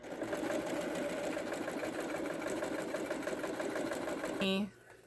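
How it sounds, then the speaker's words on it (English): A sewing machine sewing a straight stitch runs continuously with a fast, even mechanical rattle, stopping near the end with a short tone. "So I also took my sewing machine,"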